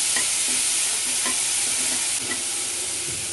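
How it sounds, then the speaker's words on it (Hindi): Chopped green chilli, onion and capsicum sautéing in a hot pan for veg Manchurian gravy, a loud continuous sizzle with faint stirring clicks, no voices. "चॉप हरी मिर्च, ऑनियन, साथ ही थोड़ा सा कैप्सिकम चॉप्ड है महीन, सबको अच्छे से डालकर थोड़े से सौते कर लेंगे।"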